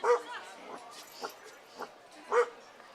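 Dogs bark and yip at a minor league baseball game on Bark in the Park Day, several short, sharp yaps spaced apart over a low crowd murmur, moderately near.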